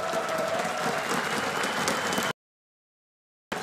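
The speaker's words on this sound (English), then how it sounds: "A big round of applause" A large crowd at the EMS One Katowice 2014 CS:GO tournament breaks into loud applause and cheering, which cuts off abruptly into silence before briefly resuming.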